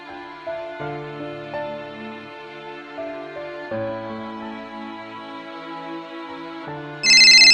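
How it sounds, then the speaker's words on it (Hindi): A telephone ringtone plays a bright, melodic electronic tune close by and clearly, repeating its pattern for several seconds with no one talking, then a sharper high-pitched burst joins in at the very end. "किसका फोन होगा?"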